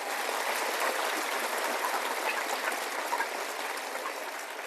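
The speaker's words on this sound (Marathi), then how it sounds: "एकदा तुमच्या गुरुजनांसाठी जोरदार आपण टाळ्या देऊया" Audience at a school prize-giving ceremony clapping for their teachers: a dense, even wash of many hands applauding from a distance, sustained throughout at steady volume, with no voices.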